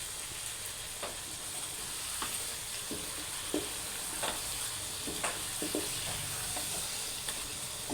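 Masala gravy for chicken and cauliflower simmers and sizzles in a pan, a steady hissing bed dotted with scattered stirring scrapes and clinks, close up and without talk.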